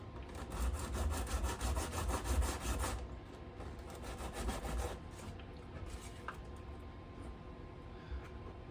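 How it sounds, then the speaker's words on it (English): Steady rasping strokes of 80 grit sandpaper working a position marker inlay on a guitar neck, rhythmic and fairly close at first, then continuing softer and more even. "I will sand it down so it fits in there. I have some 80 grit sandpaper that I use."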